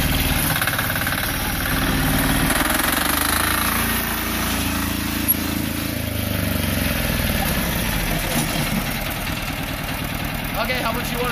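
Diesel engine running close by with a constant rumbling idle that shifts slightly toward the end, and people talking over it.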